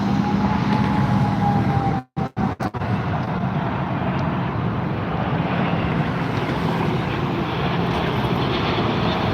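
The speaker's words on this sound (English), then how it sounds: "KLM Boeing 777 coming in for a landing" A KLM Boeing 777-200ER airliner comes in to land at Las Vegas airport, its engines a steady, loud, broadband roar that holds through the whole stretch, briefly dropping out once, with no talk.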